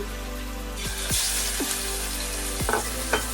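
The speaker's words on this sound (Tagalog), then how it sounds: "I-fry na po natin ang ating salmon." Salmon sizzles in hot olive oil in a pan, a bright steady frying hiss with a few soft thumps and crackles as the fish settles, close and loud with no voices.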